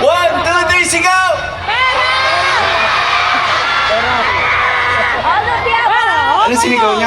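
A large crowd at a live outdoor music festival concert in Bicol shouts and cheers together on cue, a dense roar of many voices with whoops rising and falling for several seconds.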